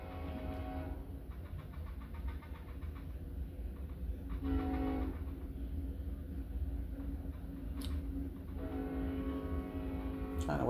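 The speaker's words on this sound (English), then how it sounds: "trying to wait till the train pass" A train rumbles past steadily in the background and repeatedly sounds its horn in several bursts, with a low continuous rolling roar beneath the horn tones.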